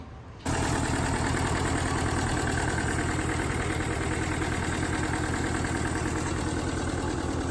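An old bulldozer engine starts up after a brief quiet moment, then runs steadily at a loud, rumbling idle with a constant low chug for the rest of the stretch.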